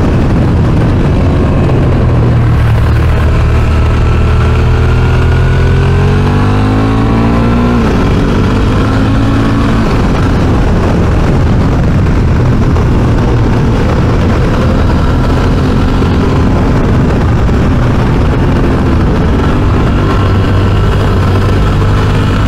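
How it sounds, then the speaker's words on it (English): Adventure motorcycle with a WR front end ridden on a twisty mountain road in the Victorian High Country, engine loud and close, rising and falling through gear changes over steady wind rush. "really pushed this bike on the twisty since I've got the WR front end on it."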